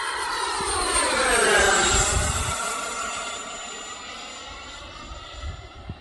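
An RC F-16 model jet with an electric ducted fan flies at full throttle, making a loud, high-pitched whining roar. The sound swells as it passes overhead, then fades into the distance.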